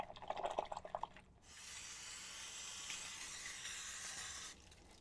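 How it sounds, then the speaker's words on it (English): Warm water runs from a tap with dish soap over a chainsaw part, starting with a few splashes and drips before settling into a steady, faint rushing flow that stops abruptly near the end. "I'm just going to give this a quick washout. Just a little bit of dish soap and some warm water"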